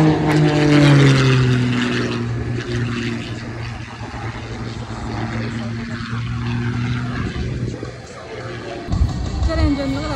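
A propeller aerobatic airplane at an air show holds a loud, droning engine note through a torque roll. The pitch wavers and shifts, with a brief surge near the end.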